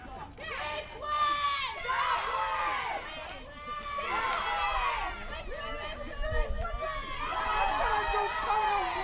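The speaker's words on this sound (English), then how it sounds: "that's one thing I like about softball and even baseball as well is the cheering and the chanting of the players and the teams" Softball players chant and cheer from the benches at a college game, a rhythmic chorus of young voices rising in repeated waves, fairly distant and steady throughout.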